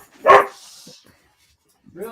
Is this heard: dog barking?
yes